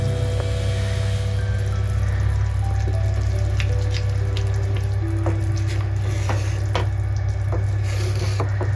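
Homemade ghee simmers and sizzles steadily in a pan, a continuous bubbling hiss with scattered small pops over a constant low hum, with no voices.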